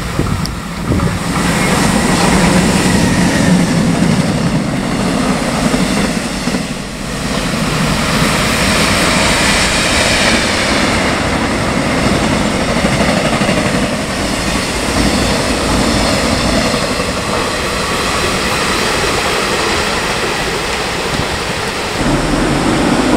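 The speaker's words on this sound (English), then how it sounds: "열차가 들어오고 있습니다." A train rumbles steadily into a station in Incheon, South Korea, for a long stretch, a loud continuous roar of wheels and motors with no talking.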